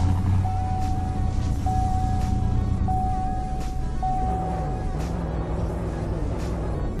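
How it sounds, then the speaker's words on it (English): Engine of a 2020 Chevy Tahoe Sheriff trim in a video game idles as a steady low drone. Its pitch shifts partway through, and a thin tone beeps repeatedly above it. "Here's how it looks spawned out. This is the Sheriff trim, by the way, and here's how it sounds."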